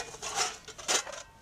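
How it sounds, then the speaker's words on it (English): A camping pan set, including a small frying pan and a little cup, is handled in a forest. It gives a short run of metallic rubs, scrapes and clinks at close range, with no talking. "set of pans with a wee cup for drinking whatever"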